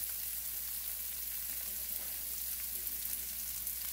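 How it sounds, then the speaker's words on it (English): Vegetables cook in a pan with a faint, steady sizzle and hiss at low volume, with no talk over it. "And I think our veggies are cooking now."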